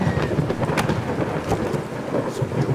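A thunderstorm on a stormy night from the video game The Empty Inn, with steady heavy rain and repeated cracks and rumbles of thunder, loud and continuous without speech.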